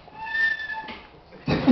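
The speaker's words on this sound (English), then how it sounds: "going to make this noise with her little flute" A small flute sounds a thin, high sustained tone as a timing signal at a storytelling event in a café, fairly faint, breaking off and giving way to a louder burst of crowd noise near the end.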